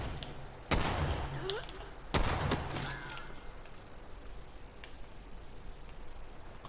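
Two loud gunshots ring out close by in the video game Fallout 76, with a gap of about a second and a half between them, followed by faint game ambience.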